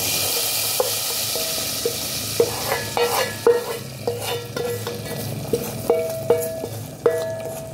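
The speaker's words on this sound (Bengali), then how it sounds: "দেখুন বন্ধুরা, মশলাটা এখন আমি ঢেলে দেব।" Spiced masala sizzling in a pan for Odia dalma, lentils with vegetables, with steady frying hiss and repeated close metallic stirring clinks and scrapes.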